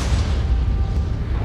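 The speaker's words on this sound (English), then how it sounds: "the star blows itself apart" A supernova explosion rendered as a deep, sustained low rumble that roars steadily and loudly throughout without pause.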